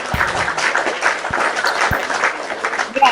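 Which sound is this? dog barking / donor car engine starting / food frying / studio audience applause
studio audience applause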